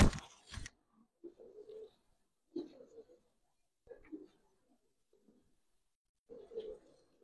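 Pigeons in a loft coo in soft, low rounded bursts spaced across several seconds, following a brief louder rustle at the start; no talking.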